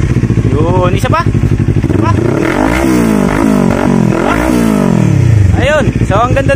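Loud, close revving from a 400cc Kawasaki Z400 fitted with an unsilenced Yoshimura R77 exhaust, a string of throttle blips rising and dropping in pitch over a rumbling idle, with a voice briefly over the engine.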